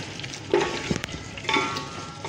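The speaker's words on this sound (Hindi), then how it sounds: "तो अभी अच्छे से भून गया तो इसमें ये चिकन शामिल कर दिए" Chicken sizzles in a pan as it fries for a desi-style biryani, with steady close sizzling broken by a few scraping stirs and light clinks of the utensil against the pan.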